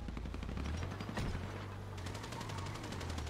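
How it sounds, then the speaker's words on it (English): Rapid gunfire from a shooting in the doorway of a prison during a GTA roleplay session crackles in quick bursts, faint and distant, with no talk. "Someone shooting in the doorway of the prison"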